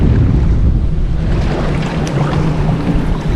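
Strong wind gusting across a bridge over water during a windstorm, a loud, continuous roaring buffet on the microphone with a heavy low rumble and no voices.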